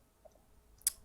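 A single faint computer mouse click, sharp and close, in an otherwise quiet room during Photoshop editing.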